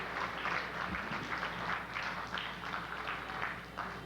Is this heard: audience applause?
yes